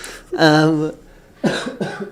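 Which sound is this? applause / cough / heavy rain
cough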